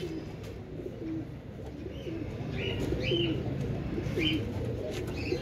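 Royal Teddy pigeons coo in soft, repeated low rolling calls close by, with a few higher chirps over a steady background hum.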